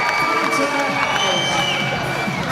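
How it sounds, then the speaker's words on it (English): A fight crowd cheers and applauds after the final bell, a dense roar of shouts and whoops that rises and holds for a couple of seconds, with voices mixed into the noise. "Massive applause for both fighters there."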